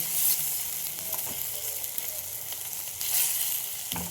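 Eggplant pieces frying in hot oil give a steady, close sizzle throughout, with brief louder crackling bursts near the start and again around the three-second mark; no one speaks.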